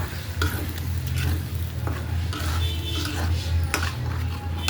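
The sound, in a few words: chicken cooking with blended jute leaves added in pot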